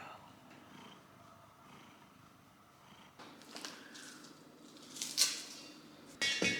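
A cat purrs softly and steadily up close in a kitchen, with quiet voices and a few light clinks of dishes toward the end.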